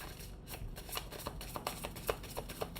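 A deck of cards is shuffled by hand several times, quick soft riffling and tapping bursts close up but quiet, with no speech.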